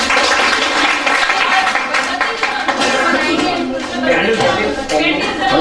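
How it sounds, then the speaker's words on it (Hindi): Audience clapping at a silver jubilee celebration for a priest, around the cake-cutting on stage, loud and continuous with a dense crowd of hands and voices mixed in. "सब ताली बजाएंगे भाई"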